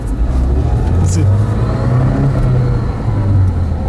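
Lada Niva engine pulling hard under acceleration, heard from inside the cabin as a loud, rising low growl that climbs and holds for several seconds, with a brief murmur from a person inside.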